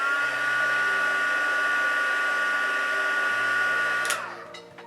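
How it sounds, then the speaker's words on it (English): A craft heat tool blows hot air to heat-set colour on a card-making project, a steady high-pitched whirring hum that holds for about four seconds, then winds down and cuts off. "And then I'm going to heat set that."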